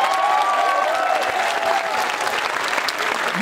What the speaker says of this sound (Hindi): आगे से पीछे तक सभी लोग एक बार जोरदार तालियां इसरो के लिए बजाइए।